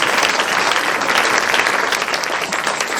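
A church congregation at a Sunday worship service applauds together, a loud, dense, sustained clapping that fills the space evenly for the full three seconds with no talking.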